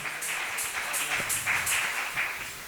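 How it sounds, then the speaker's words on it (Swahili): Church congregation clapping their hands for the Lord, a faint, distant, rhythmic patter of many hands in a large hall, steady beats repeating for a few seconds with no voices over it. "Chapia Bwana makofi."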